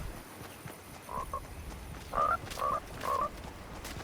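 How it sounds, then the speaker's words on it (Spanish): Frog croaking outdoors near the village of Aldea del Cano in Cáceres, Spain: three or four short, distinct croaks spaced about half a second apart, moderately close over a quiet background hiss. "Ah, es una rana."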